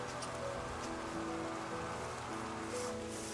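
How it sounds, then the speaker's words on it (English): Steady rain falls in Terra Nil: Heatwave, a soft, continuous wash of drops that stays even and close throughout, with no voices over it. "That's the power of making it rain, because it does actually make it rain."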